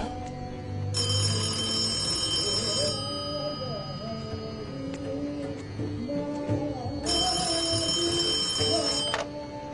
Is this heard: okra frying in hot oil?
no